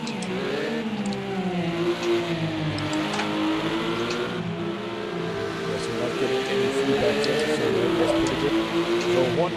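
A simulated race car engine in a Porsche racing video game revs and drones steadily, shifting pitch as it accelerates, loud and continuous throughout.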